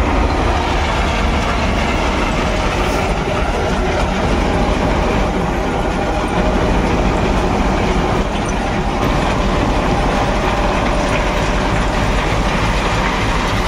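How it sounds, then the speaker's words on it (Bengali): A long freight train loaded with stone rolls across the Nasipur rail bridge on the Azimganj side, a loud, steady rumble of wagons with a continuous rattling clatter that holds unbroken throughout. "Nasipur rail bridge Azimganj side পাথর ভর্তি মালগাড়ি গাড়ি আনলোডিং করছে।"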